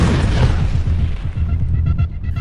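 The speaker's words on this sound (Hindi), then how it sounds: "फुल एक्शन में ईरानी एयर डिफेंस, धमाकों से दहला तेहरान।" Explosions rumble over Tehran during Iranian air defense action, a loud continuous low booming with no clear separate blasts, sustained across the whole stretch.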